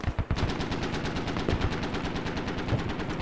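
Rapid automatic gunfire from a Global Escalation mod battle in a video game, dense sustained bursts of machine-gun fire with louder single shots punching through, close and continuous throughout.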